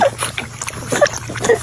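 A dog laps water quickly and noisily, a continuous wet, splashing rhythm up close, with occasional snuffling gulps.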